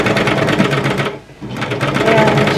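A sewing machine runs loud and close, stitching seam binding onto the neck edge of a linen shirt, a fast steady whir that stops briefly and starts again, with a voice talking over it.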